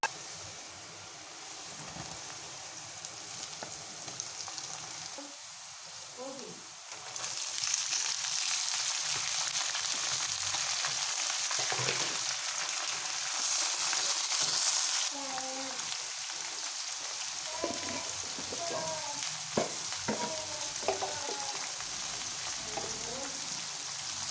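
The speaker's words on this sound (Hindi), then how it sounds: "गरम ऑयल में अच्छे से ब्राउन कर लें करेले।" Steady sizzling of bitter gourd browning in hot oil, a continuous crackling hiss that grows louder partway through, with occasional soft clinks and faint background sounds.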